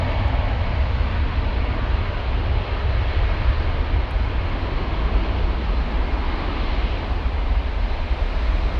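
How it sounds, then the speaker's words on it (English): Lufthansa Airbus A319 at Frankfurt airport, a steady, loud broadband jet engine roar that holds constant throughout, with no talking. "That is Lufthansa flight 1404 en route to Zagreb"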